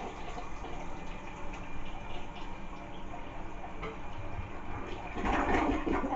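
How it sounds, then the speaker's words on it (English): A toilet flushes after a bowl cleaner test, giving a low, steady rush of water at moderate distance that grows to a louder splashing surge near the end. "I'll probably just let it sit for just a few seconds and give it a flush"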